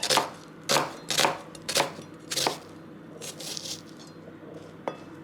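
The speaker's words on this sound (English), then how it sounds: "I am going to chop up my onions" Knife chopping a quarter of an onion on a cutting board for Japanese chicken rice: a few sharp, close chops spaced about half a second apart, then softer scraping and one last tap.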